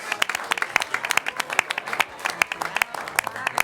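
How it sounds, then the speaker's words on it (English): A small group claps at a city council meeting, distinct individual hand strikes in a quick irregular rhythm, close and moderately loud. "Let's give them one more round of applause."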